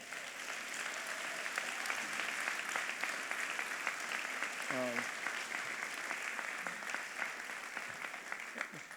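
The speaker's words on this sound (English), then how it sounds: "It's been a long time since we heard those claps and that level of support" Audience applause rises at a public event marking a city mayor's first 100 days, a sustained spread of clapping heard from a distance with occasional cheers and a voice mixed in.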